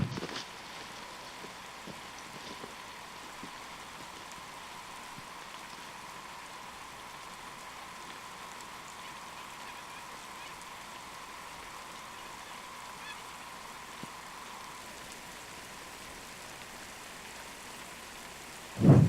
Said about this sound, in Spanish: ahora sí que está lloviendo fuerte